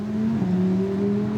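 Lamborghini engine on a circuit at the Cité de l'Auto in Mulhouse, held at a steady low drone that swells slightly, close and continuous with no talk.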